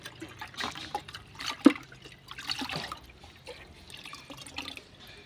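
Half a litre of homemade liquid fertilizer mix is poured out, with a soft splashing trickle and scattered drips that are fairly faint, heard without any talk.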